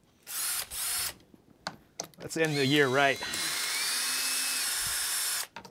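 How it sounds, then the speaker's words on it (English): A power drill running in short bursts, a loud close whirring that stops and starts, then a long steady run, with a voice speaking briefly in between. "let's do some more drilling"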